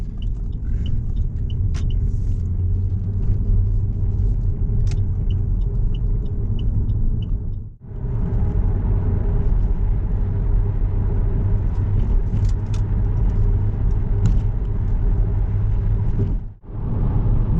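Inside a Cadillac BLS with a 2.8 V6 turbo, a steady low road rumble and engine hum carry on while driving, fairly loud and continuous, briefly dipping twice, with no one talking.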